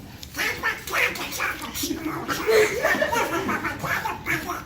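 A performer's voice imitates Donald Duck quacking during a live improv comedy show, a raspy, nasal cartoon-duck jabber running continuously for several seconds, with audience chuckles mixed in beneath it.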